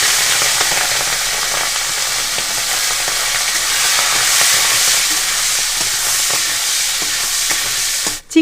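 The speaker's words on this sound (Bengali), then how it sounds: "এবার আমি চিংড়ি মাছগুলো হালকা করে ভেজে নেবো" Prawns fry in plenty of hot white oil in a wok, giving a steady, loud close-up sizzle and hiss that runs unbroken until a brief clatter at the very end.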